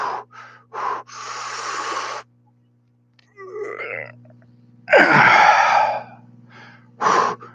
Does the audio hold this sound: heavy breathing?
yes